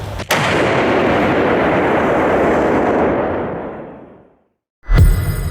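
A single heavy artillery blast booms, followed by a long roaring rumble that fades to silence, then another loud report begins at the end.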